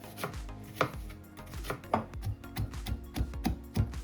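Knife chopping onions and other vegetables on a board for a Jaffna-style goat curry, a steady run of close, crisp cuts in an uneven rhythm with no voices.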